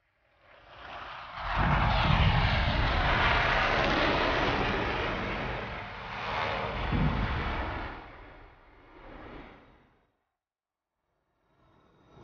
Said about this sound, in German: Oh, da kommen Flugzeuge.